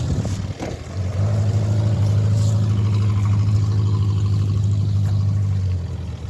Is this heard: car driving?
yes